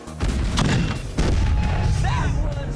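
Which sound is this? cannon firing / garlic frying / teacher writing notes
cannon firing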